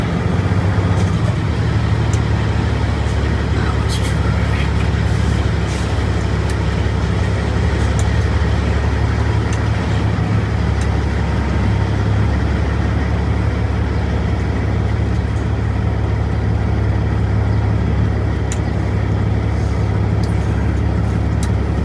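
A semi truck's diesel engine rumbles steadily at low speed while the driver jockeys the trailer back toward a tight shipping dock, a continuous close, loud drone with no talk.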